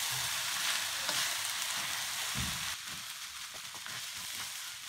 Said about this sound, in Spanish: vamos a empezar a cocinar el arroz junto con los vegetales hasta que el arroz quede crocante